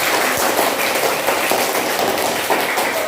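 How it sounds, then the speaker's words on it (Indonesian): A classroom of students gives a steady, dense round of applause for a classmate, with many close hand claps blending into continuous noise. "Tepuk tangan yang meriah buat Andrea"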